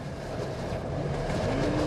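Train rolling through the Gobi Desert in southern Mongolia, a steady rumbling run of rail noise with a faint rhythmic clatter of the wagons, continuous and moderately loud, no talk.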